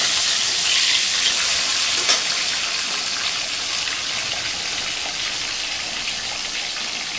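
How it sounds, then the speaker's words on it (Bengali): Fish heads and tails frying in a pan in a home kitchen, a steady dense sizzle with crackling spatter running evenly throughout, close and fairly loud with no talk. "এখন ভেজে নিই"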